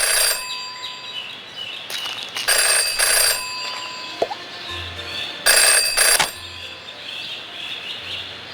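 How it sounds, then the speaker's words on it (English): A telephone rings in the video game Jenny LeClue, two bursts of bright electronic bell trilling over quiet ambient game music, clear and close with no talking. "Jenny had learned never to ignore a ringing phone"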